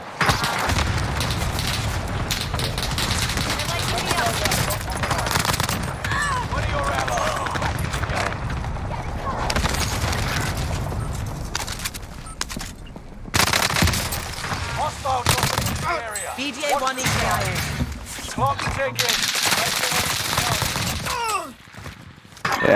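Heavy gunfire in a shooter video game, dense rattling bursts and booms filling most of the stretch with brief lulls, while players talk excitedly over it.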